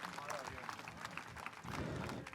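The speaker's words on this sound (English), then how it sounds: "Another round of applause for Brian Hayward, Pat Verbeek, your GM." Audience applause at a hockey team event honoring the general manager, a faint, scattered patter of clapping with voices and crowd murmur over it.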